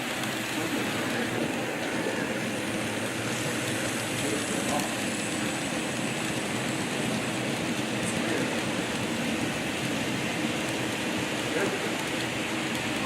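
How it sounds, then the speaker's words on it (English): An N scale model refrigerator-car train rumbles past on a layout with a steady clattering hum that holds at an even level throughout, no speech over it. "the reefer train is going to come by"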